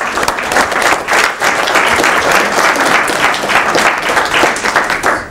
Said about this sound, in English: So if everyone give them a round of applause